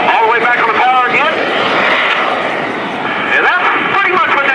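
An aerobatic airplane at an air show flies a hammerhead turn, its engine a loud, continuous roar that swells and falls in pitch several times. A voice talks underneath it.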